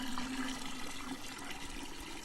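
About six litres of water pour into a container in a steady rush, a continuous broadband splash with no talking.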